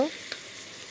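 Mutton simmers in a pot over a wood-fired stove with a steady, soft sizzling hiss, close by and continuous through a brief moment.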